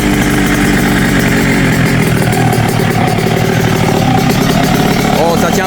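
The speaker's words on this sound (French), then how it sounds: "Oh, ça tient le ralenti" A restored 1995 125cc motorcycle engine holds a steady idle after adjustment, loud and close with an unbroken mechanical chatter throughout; voices can be heard over it.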